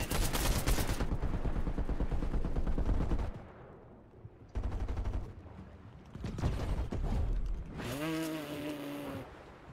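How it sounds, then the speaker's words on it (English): Rapid automatic gunfire rattles in a first-person shooter video game, long loud bursts broken by short pauses, ending with a metallic tonal sound effect. "There's a guy shooting at me."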